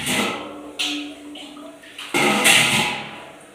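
Water is poured in three separate splashing bursts, each fading away, while cooking raw peanuts for chutney just after a pressure cooker has whistled. The pours are close and start abruptly.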